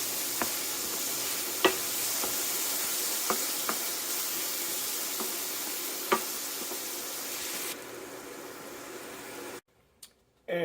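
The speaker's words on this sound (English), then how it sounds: "Now we're gonna finish sauteing all of our veggies." Vegetables sauté in a hot pan with a steady hiss and sizzle, punctuated by occasional light knocks of a utensil, close up; the sound cuts off abruptly near the end.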